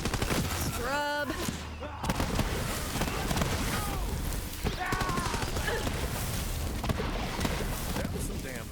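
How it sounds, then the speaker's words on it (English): Gunfire from a Borderlands 3 firefight against bandits, with dense bursts of shots and explosive cracks running throughout under game music and a voice talking. "That was some damn fine shooting."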